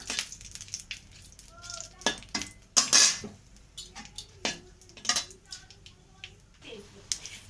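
Chilli and whole tempering spices fry in hot oil for dal, heard as light sizzling under irregular clinks and scrapes of a metal spoon stirring in the pan, with a few sharper knocks.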